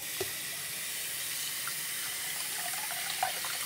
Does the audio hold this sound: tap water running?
yes